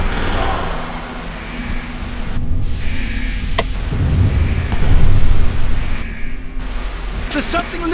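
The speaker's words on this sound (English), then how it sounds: "Was it an explosion?" A low, rumbling blast roars and lingers in a horror video game's corridor, loud and close, with a broad noisy wash rising and falling over several seconds.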